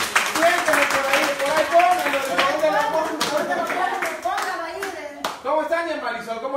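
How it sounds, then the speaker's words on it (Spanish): People at a community committee event in Chirilagua clap in scattered, uneven bursts while a voice keeps talking over and between the hand claps. "Déjame un aplauso."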